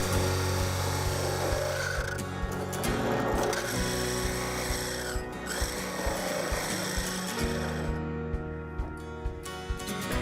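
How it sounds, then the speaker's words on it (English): A drill press fitted with a 2-inch hole saw boring into a piece of wood for a boot jack, a continuous motor hum overlaid with steady grinding, rasping cutting noise, close and even throughout. "We took the wood to the drill press with a 2-inch hole saw to bore out a spot for the heel to catch."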